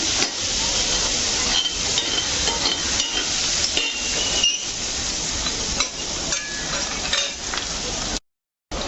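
Ingredients sautéing in a hot pan for a fish curry, a steady close sizzle broken by the scrape and tap of a stirring spoon, cutting briefly to silence near the end.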